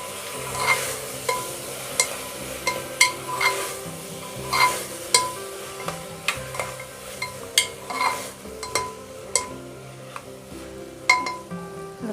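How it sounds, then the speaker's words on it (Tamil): Chopped carrots and beans sauté in a pan for vegetable biryani, with a soft sizzle under regular spoon scrapes and clinks against the metal as they are stirred, close by. "இதை நல்லா வதக்கி விட்டுடலாம்."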